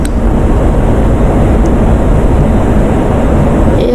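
An F-16 jet engine in a flight simulator throttles up for takeoff, a loud, steady broadband roar with a deep rumble that holds constant from start to end.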